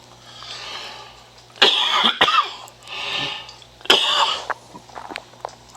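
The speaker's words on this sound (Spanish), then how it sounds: "Me disculpa por esta tos." A person coughs in two harsh bursts, each a quick cluster of rough coughs, close by with quiet breathing in between.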